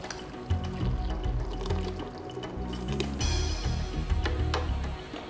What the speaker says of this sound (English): We're going to pour the contents into the blender.